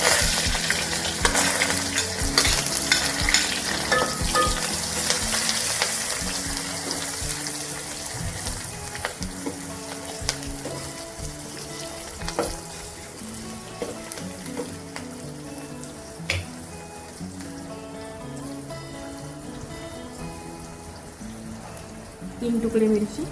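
Onion frying in hot tempering oil with mustard seeds and cumin for dal, a soft sizzle with occasional stirring clinks under a person talking throughout.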